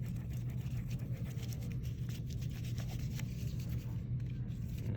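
Steady, close rubbing on the back of a foam printing plate to transfer ink, a continuous dry scuffing texture lasting several seconds without pause and with no voices.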